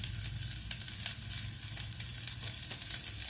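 Bitter gourd sautéing in a hot pan for Udupi-style paavakaai gosthu gives off a steady, bright sizzle with faint scraping stirs scattered through it. No one speaks.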